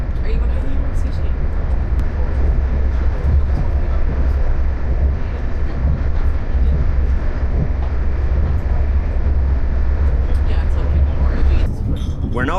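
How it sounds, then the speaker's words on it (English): A passenger train pulling into Limerick Junction railway station in Ireland, a loud continuous rumble and rattle of carriages on rails with deep low roar, persisting throughout and easing slightly near the end. "We're now pulling into Limerick Junction railway station."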